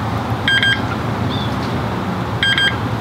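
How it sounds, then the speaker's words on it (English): A Lumos Ultra smart helmet's right turn signal gives short electronic beeps in two quick bursts about two seconds apart, clear over a steady background rumble of road or wind noise. "2 beeps for the right turn."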